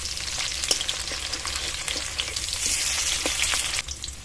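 Pumpkin pieces fry in hot mustard oil in a pan, giving a steady, close sizzle and crackle throughout with scattered sharper pops, staying fairly even and dense from start to finish.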